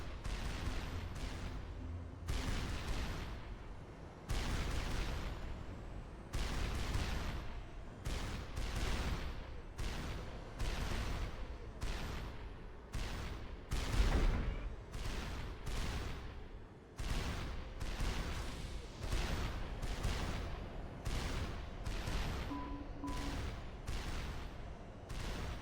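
Flak cannons firing repeatedly with bombs dropping in the Supreme Commander strategy game, a long run of loud, rhythmic bursts and booms separated by short gaps.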